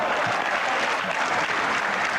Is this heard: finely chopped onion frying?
no